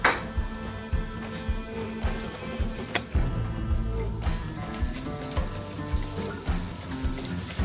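Onions and peppers sizzle in hot oil in a pan for a Philly cheesesteak, a steady frying hiss with spatula scrapes and light clinks of the pan throughout.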